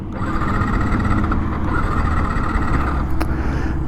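A Yamaha MT-15 motorcycle engine runs steadily and close by, a continuous mid-level idle drone with no distinct start, revs or other sounds.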